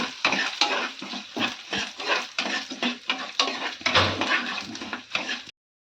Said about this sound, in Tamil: காஞ்ச மிளகாய் எல்லாத்தையும் ஒன்றா சேர்த்து பொரிச்சுக்கிடுவோம்